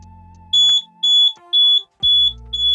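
A carbon monoxide detector, tripped by shorting its contacts with a screwdriver on a fire alarm system, sounds four loud, close, high-pitched beeps in a regular pulsing pattern over a low hum.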